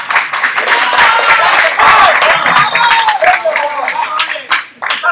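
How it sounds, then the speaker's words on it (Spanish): Audience clapping fills the hall at a 2016 powerlifting competition in Humanes de Madrid, a dense, steady applause lasting the whole stretch with cheers mixed in, loud and close, dipping briefly near the end. "Tenéis que aplaudir porque ahora sale más guapo,"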